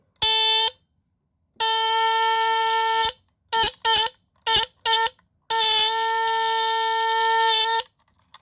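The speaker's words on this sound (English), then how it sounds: "It's the ARO chain alarm, and it's from the 1960s, I think, and it's serial number 240." A 1960s ARO chain burglar alarm, No. 240, made in Hong Kong, sounds a loud, piercing electronic tone in bursts: two long blasts, then several short chirps, then another long blast, with silent gaps between.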